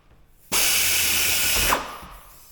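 A power drill drilling out rivets on an aircraft rudder whirs loudly for just over a second, starting abruptly and then winding down, with quiet surroundings before and after.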